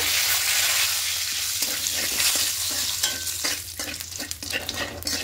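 Whole cumin seeds, two dried red chilies and a large bay leaf broken in two fry in hot oil for a steady, close sizzle. Occasional light stirring clicks in the pan sit on top of the frying.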